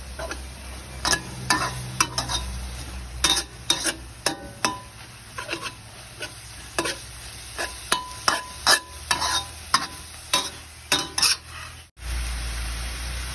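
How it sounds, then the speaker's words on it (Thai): Pork stir-frying in sauce for a basil dish, a metal spatula clacking and scraping the pan in quick repeated strokes over a steady sizzle, close and clear with no talk. "จะผัดไปงี้จนแห้งๆหน่อยนะครับ"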